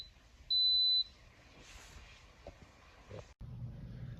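Electric pressure cooker beeping as it starts pressurizing: one steady, piercing half-second beep near the start, followed by faint kitchen clatter and a low rumble.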